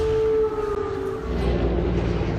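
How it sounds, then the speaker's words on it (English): Emergency air raid sirens wail over a city under heavy Russian attack in Ukraine, holding steady loud tones with a low rumble underneath and no voices. "as emergency air raid sirens wailed."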